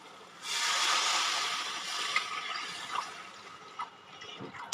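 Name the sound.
water being poured into hilsa mustard curry pan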